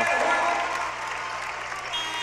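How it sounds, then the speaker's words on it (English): Basketball crowd at an NBL Canada home game between the London Lightning and KW Titans, applauding a player in a sustained, fairly loud wash of clapping and cheering that holds steady across the whole stretch. "And Nigel Titer deserves a big round of applause from the faithful here at the Odd, and he's going to get it"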